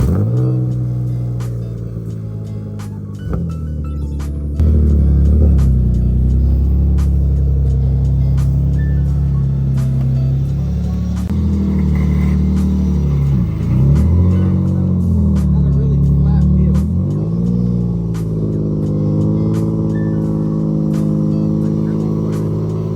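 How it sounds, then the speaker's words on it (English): An Infiniti G35 engine idles and revs in close, loud, rumbling waves with several rises and dips in pitch; a brief starter crank is heard at the very start, and no one talks. "will the G start first crank?"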